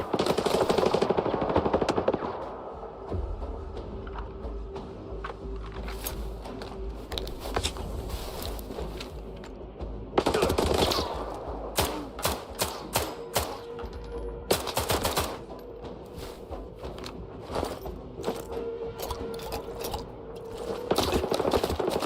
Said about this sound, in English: you shoot me right through the wall with your X-ray vision